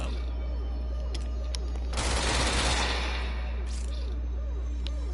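Weapon fire in the video game Control, a short dense burst of rapid shots in the middle, with faint clicks before and after over a steady low hum.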